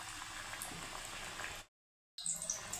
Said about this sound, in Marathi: आता दुसरी बाजूसुद्धा आपण तळून घेऊ.